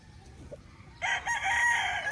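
A stag gamecock rooster crows close by, a loud, drawn-out call starting partway through after a faint cluck against quiet background.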